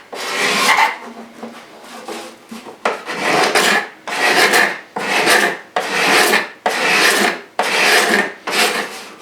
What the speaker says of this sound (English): So I'm just going to scrape the mahogany at the back just a little bit closer.